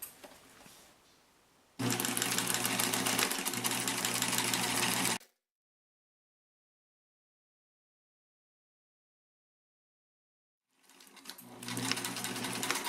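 A sewing machine runs a steady, loud stitching burst along a quarter-inch seam for a fabric pencil pouch, stops into complete silence, then starts up again near the end.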